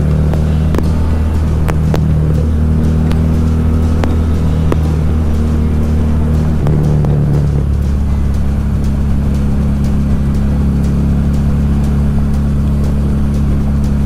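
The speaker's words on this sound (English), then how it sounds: "Got a lot of cars today, a lot of traffic." Motorcycle riding in heavy traffic on Georgia roads in fall, a loud steady engine drone and wind rumble with passing cars whooshing by and engine pitch shifting as vehicles go past, no talk.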